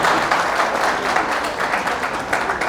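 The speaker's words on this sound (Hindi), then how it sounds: "ये बात ताली बजानी चाहिए" Audience applause from a seated crowd at a Hindi spiritual lecture, a dense steady wash of many hands clapping, loud and sustained throughout with no pauses.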